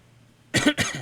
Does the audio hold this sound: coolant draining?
no